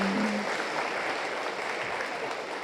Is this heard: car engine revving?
no